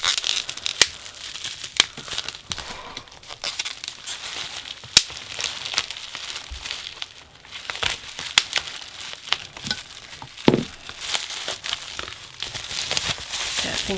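Pink bubble wrap crinkles and crackles as it is handled around a makeup palette, a steady close rustle with scattered sharper pops and tearing-like bursts throughout, no voices.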